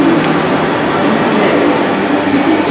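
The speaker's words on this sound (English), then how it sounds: "Here comes my train, 11:05, London Northwestern Railway Service to London Euston" A London Northwestern Railway class 350 electric train arrives at Birmingham International station, a loud, steady rumbling roar of wheels and motors close by, with no clear voices.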